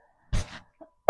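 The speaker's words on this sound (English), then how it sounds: "I'm not sure why I had to clear my throat" One short, close throat clear, then a pause before another abrupt sound begins.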